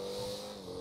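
Car engine in the video game GTA 5 accelerating with a steady, sustained hum over less than a second, with no speech over it.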